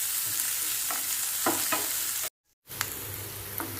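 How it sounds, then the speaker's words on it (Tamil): Onion, green chilli and curry leaves sauté in a pan for a ragi kozhukattai filling, a steady close sizzle with scraping stirs, broken by a brief silent gap before the frying resumes. "வெங்காயம், பச்சை மிளகாய், கருவேப்பிலை இது எல்லாமே போட்டு நல்லா வதக்கிடுங்க"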